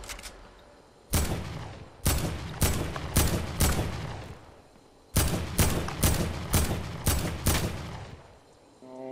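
Sniper rifle fire in the Fortnite video game, sharp loud shots in two rapid bursts of about five each, close and punchy with echoing tails, no talk over them.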